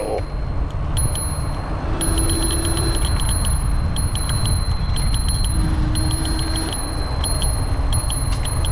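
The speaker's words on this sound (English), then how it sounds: "That's my bell." A bicycle bell rings in bright, repeated dings on the Overseas Highway US1 bike trail at Cudjoe Key, several quick rings over steady wind and road rumble.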